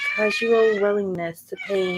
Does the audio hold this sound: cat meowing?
yes